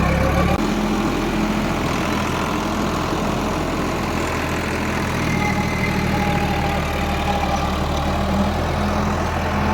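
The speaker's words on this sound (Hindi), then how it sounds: "रोटरी देखो यहाँ से पूरा भर का लेकर चल रहा, ये देखो" A new Eicher 551 tractor pulls a rotavator through field soil, its engine a steady loud low drone with churning rumble running continuously for the whole stretch, no talk over it.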